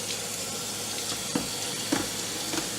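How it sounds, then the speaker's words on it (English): Hot tap water runs steadily over a 2011 MacBook Pro laptop, a continuous broadband splashing hiss with a few faint splatter spikes. "the first step to cleaning your laptop is to run it under some hot water"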